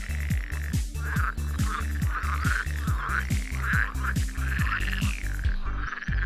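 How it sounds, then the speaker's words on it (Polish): Loud chorus of frogs croaking in rapid, rhythmic pulses, with a higher trilling call layered over the steady throbbing. "To oczywiście żabie rechoty."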